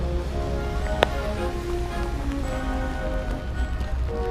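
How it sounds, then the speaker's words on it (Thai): Steady rain falls on surfaces outdoors in the city of Würzburg, a dense even patter filling the whole stretch, with a faint voice briefly underneath. "ตอนนี้ฝนตกอยู่นะ"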